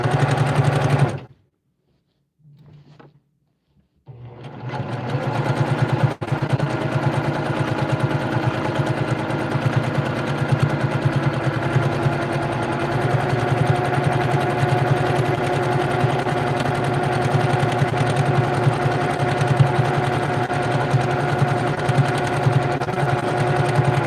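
A Brother PQ1500SL domestic sewing machine runs fast and steady during free motion quilting, a loud continuous rapid whir that starts after a brief pause and hums on without stopping.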